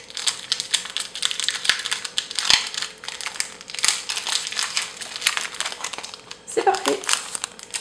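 A Pokémon Diamond and Pearl booster pack wrapper is crinkled and torn open up close, a run of sharp plastic crackles and rustles, with a brief spoken remark near the end.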